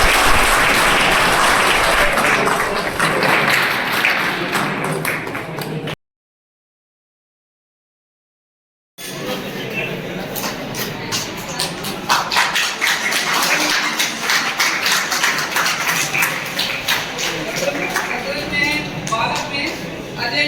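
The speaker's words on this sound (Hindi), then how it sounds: "तालियां।" An audience at a prize-distribution ceremony at a government ITI claps in bursts, loud and close, with a short silent gap midway before the applause resumes.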